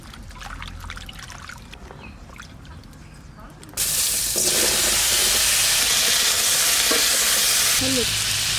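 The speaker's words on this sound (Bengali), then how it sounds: "মাছটা বেশি ভাজবো না, হালকা ভেজে নেব।" Fish frying lightly in hot oil in a kitchen pan, a sudden loud steady sizzle that holds to the end, after a stretch of quieter background with someone talking.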